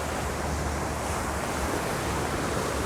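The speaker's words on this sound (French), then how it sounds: "Même si les vagues sont pas aussi impressionnantes que l'autre jour." Sea waves wash onto the shore near a tent camp, a steady broadband roar of surf with wind in the microphone, continuous and moderately loud, with no voices.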